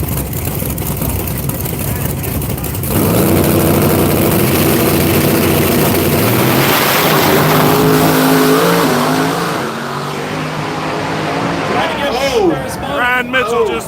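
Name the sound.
drag race cars launching down the track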